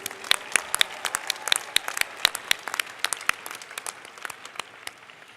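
Applause fills an award ceremony hall, many hands clapping in a steady, dense patter with sharper individual claps standing out, fairly close and sustained before gradually thinning toward the end.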